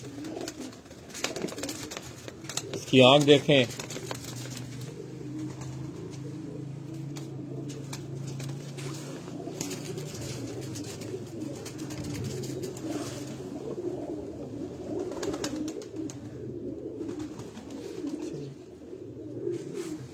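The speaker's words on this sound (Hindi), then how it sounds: "ये तमाम जो है परवाजी कबूतर हैं" Shaheen flying pigeons coo softly on a rooftop, low throaty calls under someone speaking, with a brief sharper bird call early on and faint rustling throughout.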